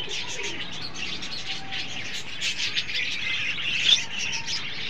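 Birds calling and chirping in a busy outdoor scene, with a soft pigeon-like cooing mixed among steady background noise.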